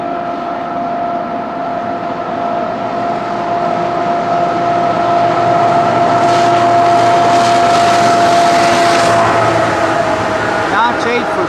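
Union Pacific diesel locomotive running at notch 8 full throttle, a loud steady engine drone with a sustained tonal hum that grows slightly stronger midway, continuous and close.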